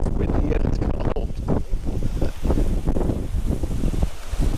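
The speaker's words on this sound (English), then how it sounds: "It's windy and it's cold" Strong, cold wind gusting outdoors at a caravan campsite in Australia, buffeting the microphone with continuous roaring rumble and flapping bursts throughout, close and loud, with no clear speech over it.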